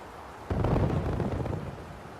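LRM missiles striking in the Mechwarrior Living Legends Badlands map: one sudden loud blast followed by a rumbling spread of explosions that slowly fades.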